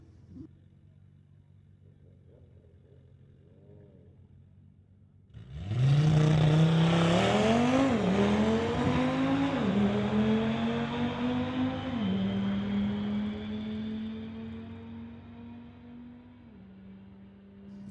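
A 2018 Audi RS3 fires off on a solo drag racing pass. After a quiet idle it suddenly bursts into a loud, high-revving engine roar, rises through several quick gear shifts, and then gradually fades as it pulls away.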